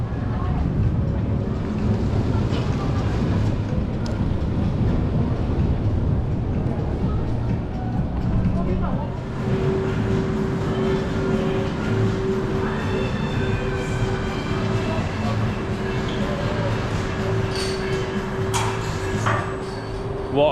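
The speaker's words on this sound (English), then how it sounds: "What a ride that was on Steel Taipan. Brilliant Mack accelerating launch coaster." The Steel Taipan, a Mack accelerating launch roller coaster at Dreamworld, roars along its track in a loud, continuous rumble, with a steady whining tone rising partway through and riders' voices mixed into the din.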